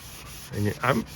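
Sandpaper rubbed over car paint to knock down orange peel, two short close scraping strokes in quick succession, each a brief gritty rasp at moderate loudness.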